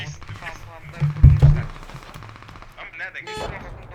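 Mortar blasts land in the tactical shooter game Squad during a tournament match, with a heavy booming cluster of impacts near the middle and gunfire scattered throughout, all under continuous commentary.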